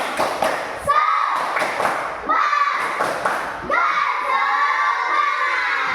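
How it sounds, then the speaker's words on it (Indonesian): Schoolchildren in a classroom perform a rhythmic 'tepuk semangat' clapping chant, with loud shouted voices and thumping claps in repeated bursts, close and energetic. "kita akan tepuk semangat dulu"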